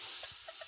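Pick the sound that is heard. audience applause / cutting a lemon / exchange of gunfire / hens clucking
hens clucking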